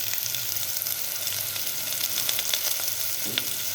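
Ginger-garlic paste fries in a pan of oil for sambar, giving a steady, loud, close sizzle with faint crackles throughout.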